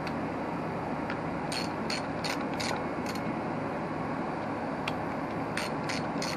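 A ratchet wrench with a 13 millimeter socket clicks in short bursts over steady low background noise, a few quick ratcheting runs close by with pauses between them, during a Yamaha DT250 motorcycle front end install.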